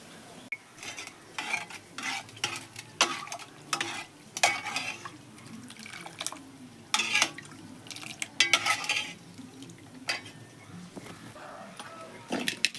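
Tempering spices with dried red chillies sizzle softly in oil while a spoon repeatedly scrapes and clinks against the pan in irregular bursts, with a voice speaking intermittently.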